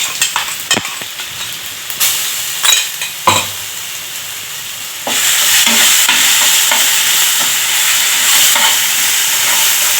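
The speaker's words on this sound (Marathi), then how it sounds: "ठेचा आहे त्याचा कच्चापणा पूर्ण गेला पाहिजे म्हणून मीडियम गॅसवरती 5 ते 10 मिनिटं हे परतून घेऊया।" Thecha, a crushed chili paste with cumin and asafoetida, being stirred in a pan over medium gas; sharp spatula clacks at first, then a loud, dense sizzle takes over and holds steady.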